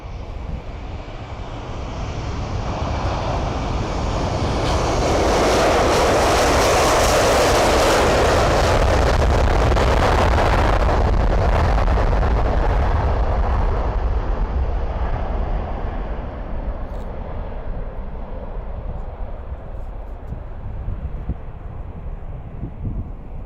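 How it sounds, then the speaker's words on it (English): A loud, steady jet roar builds and swells as an Aer Lingus Airbus A330 departs from the airport, then slowly fades while staying broad and dense throughout. "The Aer Lingus A330 on his way to Orlando."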